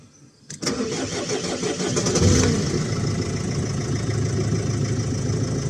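A Mercedes Vito van engine, after earlier failed starting attempts, cranks with a brief click and whir, catches, revs up and then settles into a steady idle, close and moderately loud.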